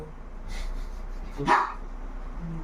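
A dog gives a single short bark at mid-distance over a steady background hum.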